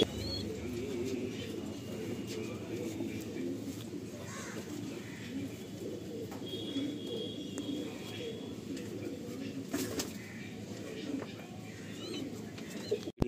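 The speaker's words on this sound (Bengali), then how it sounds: "তো এই হচ্ছে এই কালো পায়রা" Continuous low cooing from many pigeons close by, with occasional chirps and wing rustles, forming a steady murmuring backdrop.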